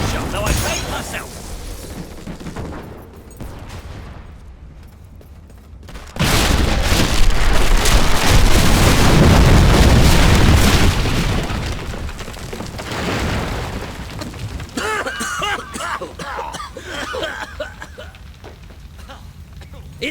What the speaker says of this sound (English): Sabine, you almost blew us up.